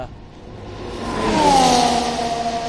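Formula 1 car accelerating out of a corner and back up a hill during testing at the Barcelona circuit, its engine note swelling to a loud, rising whine before easing slightly, heard from trackside.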